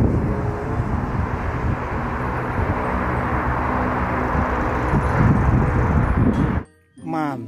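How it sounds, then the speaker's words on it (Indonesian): Toy airplane sound effect: a steady, loud whooshing engine drone with a rumbling texture lasting several seconds, then cutting off abruptly before a brief voice. "Pesawat terbang."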